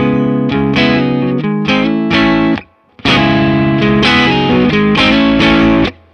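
An electric guitar driven through a Tube Screamer overdrive pedal in AmpliTube 5 plays a loud, distorted, chorus-tinged riff of chords and notes, pausing briefly midway before continuing.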